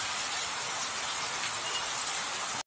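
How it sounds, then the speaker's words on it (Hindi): Heavy rain pours steadily onto a flooded main road, a dense, continuous hiss with no pauses, ending in abrupt silence at the very end. "पूरा बारिश गिर रहा है गाइस"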